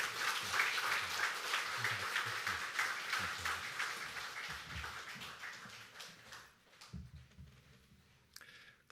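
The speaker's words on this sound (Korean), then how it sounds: "우리 박수 한번 드리면 좋겠습니다" A church congregation applauds during a Sunday service, a dense broadband patter of clapping that carries steadily for about six seconds, then thins and fades out into quiet room noise.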